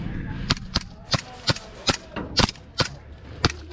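Airsoft rifle firing outdoors during a skirmish game, nine or so sharp snapping shots at an uneven pace, fairly close and loud over faint background noise.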